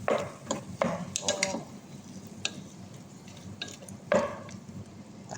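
Chicken arroz caldo stirred in a pot, a spoon scraping and knocking against the sides in a few irregular bursts over a soft background simmer.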